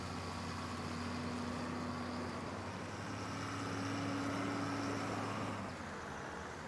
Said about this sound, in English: tractor doesn't like to move when we're pulling that one out